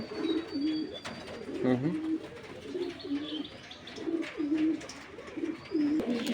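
Domestic pigeons at a large pigeon farm coo repeatedly in rolling, overlapping phrases, with several birds calling close by and faint chirps scattered in the background.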